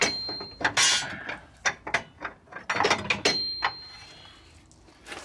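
A 5/16 socket wrench ratchets in a tight spot while installing rear air bags on a 1959 Impala, a run of close, uneven clicking bursts and metallic clatter with pauses.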